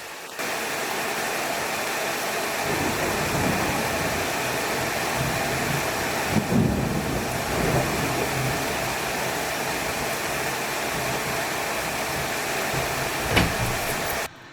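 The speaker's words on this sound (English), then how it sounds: "It is thundering, lightning, and just downpour." Steady heavy rain roars throughout a thunderstorm, with a couple of low rumbles of thunder breaking through, one around the middle and a sharper one near the end.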